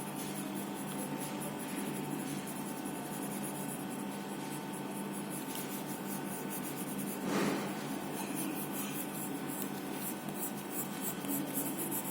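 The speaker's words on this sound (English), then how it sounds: "now I'm using a 4B pencil for the darker tone." Graphite from a 4B pencil shading darker tones on drawing paper in an art class, a steady soft scratching and rubbing that runs continuously at close range with no talk.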